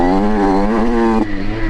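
Derbi Senda off-road motorcycle engine at high revs as the rider shifts into a too-short first gear; a loud, close buzzing drone that dips sharply in pitch at the shift, then settles rough and lower.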